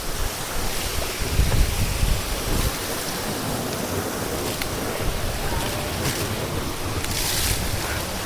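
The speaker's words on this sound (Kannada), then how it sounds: "ಒಳ್ಳೆ ವಾಟರ್ ಫಾಲ್ಸ್ ಇದು" Bolle Waterfall in the misty Charmadi Ghat mountains of Karnataka, a steady, loud broadband roar of falling water, with gusts of wind buffeting the microphone throughout.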